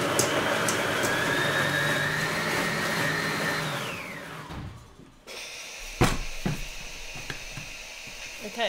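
Kitchen blender mincing ingredients for fish curry and dried anchovy sambal: a steady, loud motor whir that winds down in pitch and stops partway through, followed by quieter clatter and a sharp knock.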